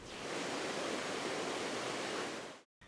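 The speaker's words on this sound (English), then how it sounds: "Nearby, there is a 10 meters waterfall before the water reaches the valley." A 10-metre natural waterfall in a valley, heard as a dense, steady broadband rush of falling water, loud and constant, cutting off abruptly near the end with no voices.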